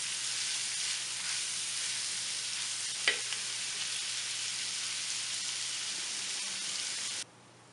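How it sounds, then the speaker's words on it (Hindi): Chopped onions frying in hot oil over medium-high heat until golden brown for a sesame kofta curry, a steady dense sizzle throughout with one brief clatter partway, then cutting off abruptly near the end. "प्याज को हमने गोल्डन ब्राउन कर लेना है"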